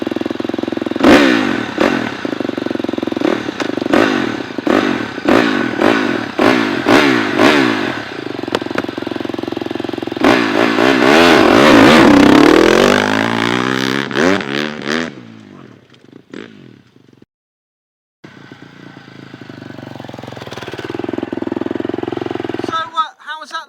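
Factory motorcycle engine revving hard in a run of sharp rising bursts, then a long sustained high-rev pull that drops away, with a voice talking over it near the end.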